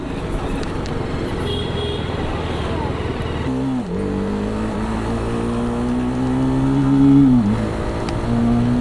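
A TVS Apache RR310 Limited Edition motorcycle accelerates hard on an open road, its engine note climbing steadily through the gears with brief dips at shifts, loud and close over constant wind and road rush.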